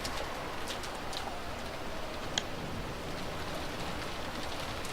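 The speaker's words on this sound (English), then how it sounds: "it was very quiet, filled only with the sound of the rain" Steady rain ambience from the Umineko visual novel game, a constant soft hiss of falling rain throughout, with a few faint chirp-like accents and one brief tap midway, no talking.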